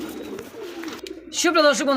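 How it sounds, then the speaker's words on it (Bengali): Copper lat pigeons coo close by, a short throaty burst rising near the end, mixed with someone talking. "দেখেন কপার লাট কবুতর সাইজ কোয়ালিটি আলহামদুলিল্লাহ বিগ সাইজের মধ্যে আছে"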